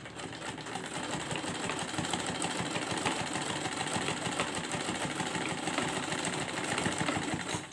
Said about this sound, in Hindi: हम ऐसे गले के ऊपर से रखेंगे और इसको एक सिलाई से ऐसे अटैच करते हुए जाएंगे।